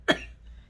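A single short, faint cough, sharp at onset and quickly fading into quiet room tone.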